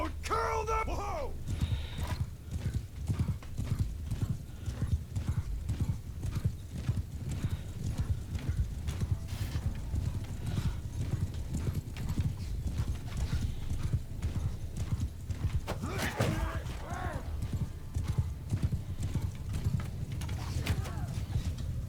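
Horses galloping in the Bannerlord video game during a cavalry battle charge, a steady rumble of many hooves with clip-clop beats and occasional whinnies, mixed with battle noise across the whole stretch.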